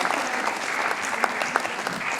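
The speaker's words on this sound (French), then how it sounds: "Allez, les applaudissements" Audience at the 20th anniversary gala evening of Initiative Savoie clapping, a dense, steady burst of many hands applauding in a hall, loud and close throughout with a faint murmur of voices beneath.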